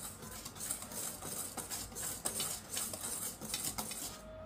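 Sugar stirred into liquid ingredients in a bowl, a utensil clinking and scraping against the sides in a brisk, steady rhythm up close.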